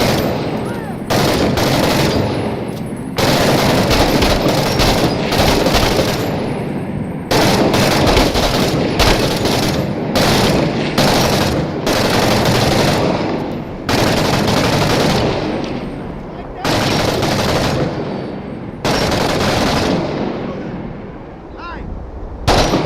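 Sustained gunfire in a video game: loud, dense bursts of automatic weapons fire come in long rapid volleys with brief gaps between them.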